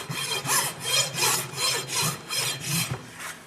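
A rasp smoothing a horse's hind hoof during trimming makes a rhythmic series of about seven rough, scraping strokes at an even pace, close and moderately loud, with no voices.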